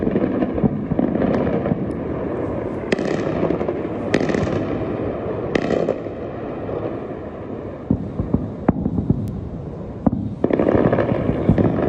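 Explosions from Israeli airstrikes on Tehran, Iran, aimed at weapons manufacturing facilities: several sharp, loud blasts and crackling bursts over a constant roaring rumble, with no talking.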